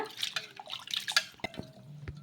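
Water is poured off washed poha (flattened rice) in a home kitchen, a soft run of splashes and drips that trails off into a few scattered drops.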